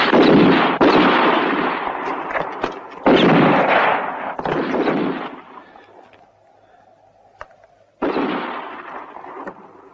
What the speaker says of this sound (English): so keep on shooting all the time.